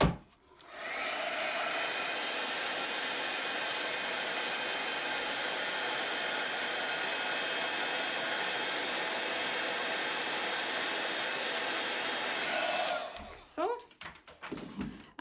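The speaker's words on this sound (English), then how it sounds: "I'm going to heat that up using my heat tool" A heat tool warming a stamped sentiment on a card, a loud, steady, close blowing roar that runs unbroken for about twelve seconds, then cuts off into a few clattering handling sounds.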